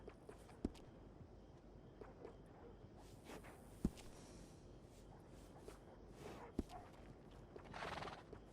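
Horse neighs and whinnies with clip-clopping hooves and snorts in the Red Dead Redemption 2 video game, a few sharp hoof strikes standing out over a quiet outdoor ambience, with a louder whinny near the end.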